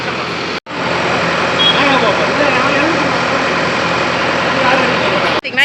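A vehicle in a residential area sets off for the hospital, its engine running as a steady, loud, near rumble that cuts out briefly at the start and drops away again at the very end.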